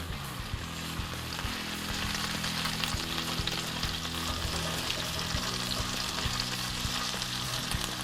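Pats of butter sizzle and fry in a pan with herbs, a continuous close crackling hiss with faint clinks of a utensil, no voices.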